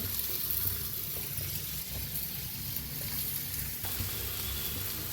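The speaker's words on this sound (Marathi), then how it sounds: "आता एक साईडने छान असं भाजून घेऊया" Steady frying sizzle of a spinach thalipeeth flatbread on a hot griddle, close and constant, with a few faint clinks and no talking.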